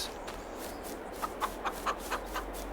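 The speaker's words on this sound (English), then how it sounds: "We've got 360 chickens and they're already producing some eggs" Chickens cluck in a flock of 360 birds in the farming video game Farming Simulator 22, with a series of short, evenly spaced clucks rising over a soft steady background murmur.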